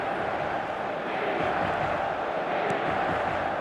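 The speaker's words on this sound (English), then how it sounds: "Maybe the crowd will stay a little quieter next time." Stadium crowd in the eFootball Mobile football game during an online PvP division match, a steady dense roar of murmur and cheering filling the whole stretch without a break.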